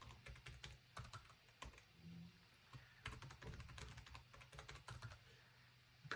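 Fingers tap out a password on a computer keyboard in a quiet room, a steady run of close, light key clicks lasting several seconds with a few brief pauses.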